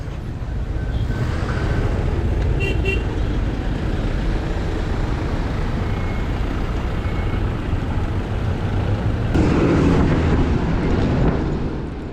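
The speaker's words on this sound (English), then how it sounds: "bumper to bumper traffic all through." Heavy road traffic inching along bumper to bumper early in the morning around 7:15, a steady broadband roar of engines and tyres that swells slightly near the end, with no voices.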